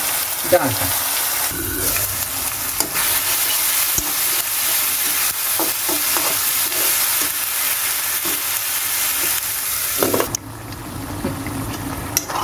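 Spices and Kashmiri red chili frying in butter in a pan for mixed dal with fish head, a loud continuous sizzle broken by intermittent spoon scrapes and knocks, quieter toward the end.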